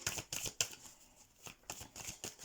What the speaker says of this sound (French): Alors, je vais les mettre comme ça, j'espère que vous voyez bien les cartes.